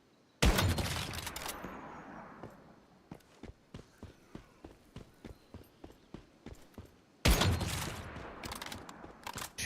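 Gunfire in the survival shooter Once Human: a loud automatic burst opens, then a run of single sharp shots at irregular intervals, and another heavy burst near the end, with no talking.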